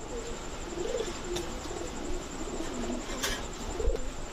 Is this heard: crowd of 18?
no